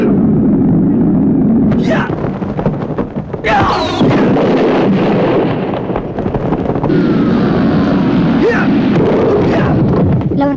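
Loud booming blasts burst out repeatedly amid rumbling, with crackling bursts and swooshes, like a fierce magical explosion in a battle, from a fight in the Indonesian audio drama Saur Sepuh.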